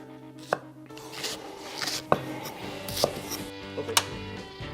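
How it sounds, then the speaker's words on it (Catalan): A knife chops white calçot spring onions into thin rings on a board, sharp distinct strikes at irregular intervals over faint background kitchen noise, close and moderately loud. "I els tallarem"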